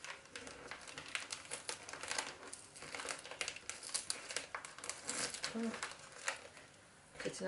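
Gift paper being carefully peeled open, a steady run of soft crinkling and crumpling with small tearing rustles throughout, close and moderately quiet.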